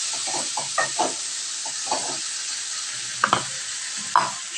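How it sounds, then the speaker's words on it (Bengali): Chopped fenugreek leaves sizzle in a kadai with a continuous close hiss, broken by soft scraping stirs and a few sharper clinks from the spoon. "এবার কেটে রাখা মেথি শাকগুলো আমি কড়াইতে দিয়ে"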